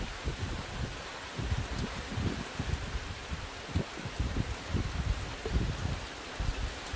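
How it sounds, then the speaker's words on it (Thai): Rain falls steadily outdoors, a dense hiss of drops spattering on surfaces with irregular heavier patters close by and no voices. "สังเกตเม็ดฝน"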